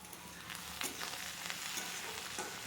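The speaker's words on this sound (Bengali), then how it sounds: "ভালো করে লাল লাল করে ভেজে নেব।" Tomatoes with a little sugar frying in a pan while being stirred, a quiet, steady sizzle with soft scraping strokes of the spoon, no talking.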